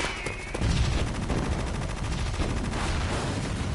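Sustained rapid gunfire in Metal Gear Solid, a dense continuous burst of machine-gun shots with a short quieter lead-in, loud and close with no talk.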